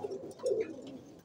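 Pigeons cooing in a rooftop loft among a flock kept on the roof, a low throaty coo swelling at mid-clip, fairly close, with no voices.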